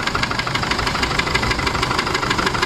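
An Isuzu D-Max with a 4JJ1 diesel engine knocks from insufficient fuel supply to the injectors, giving a rapid, even clatter over a steady idle, heard up close.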